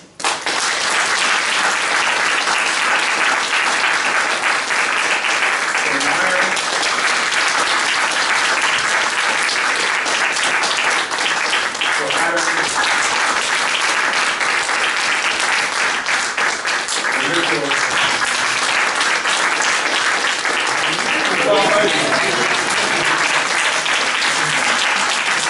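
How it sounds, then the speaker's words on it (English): Audience at an indoor event giving a long round of applause, loud continuous clapping sustained for over twenty seconds, with faint voices occasionally surfacing beneath it. "I want you guys to give another round of applause for Derica."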